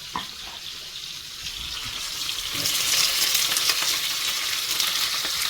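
Steady close sizzling of onion frying and browning in a hot pan, growing louder and more crackly partway through.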